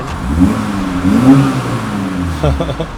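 A 40-year-old classic 90-horsepower BMW engine revs and shifts gears at mid volume, rising and falling pitch with a quick change near the end, while people talk over it.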